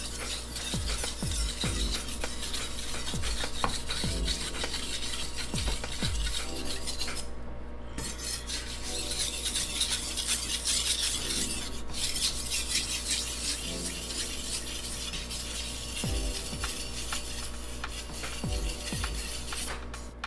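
A knife is sharpened by hand on a wet 200-grit whetstone, giving repeated scraping strokes in a steady back-and-forth rhythm, close and fairly loud throughout with a few brief pauses.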